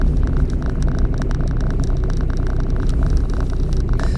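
Car slowing down in fourth gear during a driving lesson, a steady loud engine and road rumble with no clear change, continuous and close throughout.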